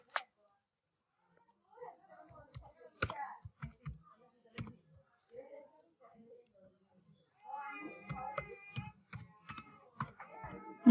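Someone types a comment on a computer keyboard, with quiet scattered clicks early on and a denser burst of rapid keystrokes toward the end, as a voice talks in between.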